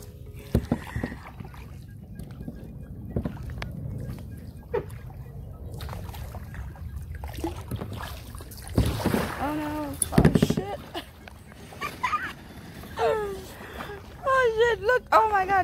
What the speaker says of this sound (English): Kayaking is so hard.